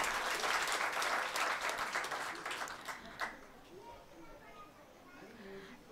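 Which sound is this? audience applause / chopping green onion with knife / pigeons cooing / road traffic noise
audience applause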